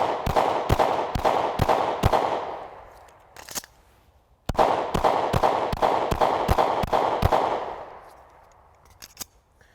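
Shadow Systems XR920 pistol firing two rapid strings of about six loud, sharp shots each, close and echoing, separated by a brief pause, with faint clicks between.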